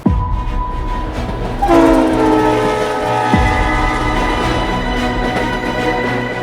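A train crossing the New Pamban sea bridge in India sounds its horn in long, loud, sustained blasts over a continuous rumble of rail wheels, close and dominant throughout.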